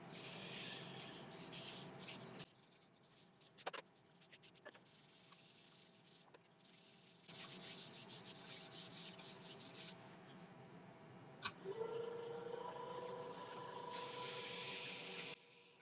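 Elm bowl spinning on a wood lathe while being rubbed with Yorkshire grit abrasive paste, a soft hissing friction sound in uneven stretches broken by pauses and a few knocks, ending in a brighter steady whine.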